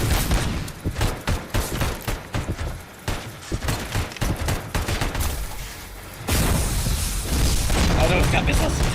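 Enemy missiles explode in RoboCop: Rogue City as a dense run of booming blasts and rapid fire, rising into a continuous roaring barrage in the last few seconds, loud and close.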